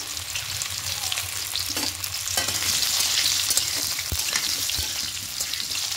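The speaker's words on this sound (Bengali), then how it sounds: "এবার এই আলুগুলো একটু হালকা করে ভেজে নেব।" Boiled potatoes fry in white oil in a wok, giving a loud, steady, close sizzle that swells slightly midway, with no voices.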